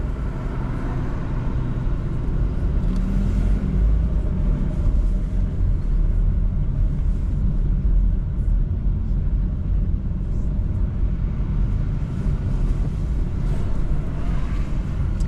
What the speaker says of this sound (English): These yellow buses that you just seen, the one that just passed by, is I think it's a hybrid.